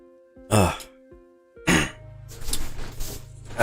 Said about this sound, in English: Had to sneeze